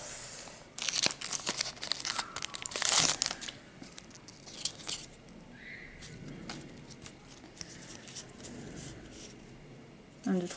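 A Gardiens Ascendants trading card booster pack is torn open with close, crinkly foil rustling and ripping in bursts over the first few seconds, followed by quieter handling and a final short crackle.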